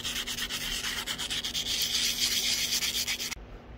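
A go-kart brake part, the piece that pushes on the back of the brake pad, is scrubbed by hand. Close, steady rhythmic rubbing and sanding strokes continue for several seconds, then stop abruptly.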